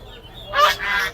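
Geese honk at a poultry market at Hemayetpur, two loud close calls in quick succession over a low crowd murmur.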